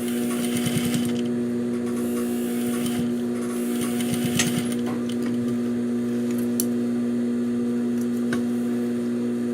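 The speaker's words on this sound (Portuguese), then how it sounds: "Passamos a costurinha." Sewing machine stitching bias binding onto a half-moon fabric pouch, a steady mechanical hum with a strong tonal whine and rapid needle clatter, close and continuous with brief pauses and fabric handling noises.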